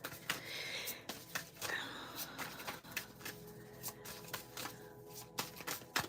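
Tarot cards being shuffled by hand in a quiet room, a run of dry papery riffles and soft slaps with irregular rhythm, close and moderately quiet, no voices.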